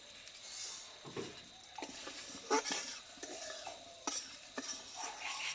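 Cardamom powder being stirred into a khoi murki mixture of puffed rice and sweet syrup in a pan, heard as close, repeated scraping and rubbing strokes with light clinks.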